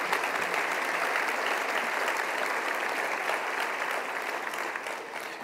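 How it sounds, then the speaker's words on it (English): A steady round of audience applause fills an annual meeting of a board of governors, dense clapping sustained throughout and easing slightly toward the end. "I think the management represents a round of applause for that"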